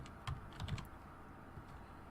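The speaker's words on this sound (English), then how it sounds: "I swear I'm a better typer than this." Computer keyboard typing, a handful of irregular quick keystroke clusters with short pauses between them, fairly close and alone with no talking.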